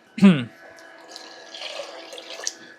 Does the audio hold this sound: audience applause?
no